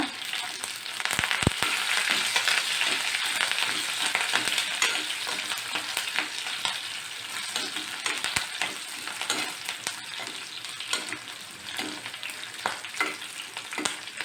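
Chopped ginger, three green chilies, three dry chilies and a few curry leaves fry in hot oil for a rasam, giving a dense, constant sizzle with occasional stirring clicks and no talking.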